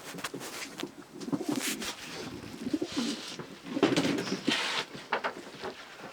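Several pigeons coo softly and repeatedly nearby, low throaty calls overlapping, with faint rustling and clicks in the background.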